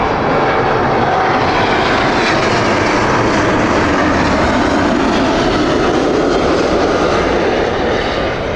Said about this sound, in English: Here is the Nashville 777-200.